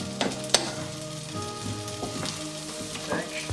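Sorrel cooking in a pan for a potato omelette gives a steady sizzle and frying crackle, with occasional utensil clinks and stirring scrapes.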